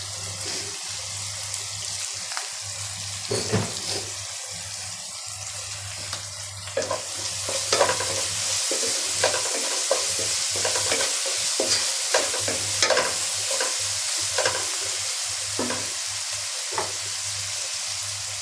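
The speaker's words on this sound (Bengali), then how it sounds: "পেঁয়াজ ভাজা হয়ে গেছে, এখন বাটা মশলা দিয়ে দিব" Onions sizzle and fry with salt in a pan with repeated stirring and scraping, close up, alongside a bubbling, watery rush of rice cooking at times.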